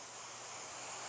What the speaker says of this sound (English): sometimes I just spray it onto the paper towel,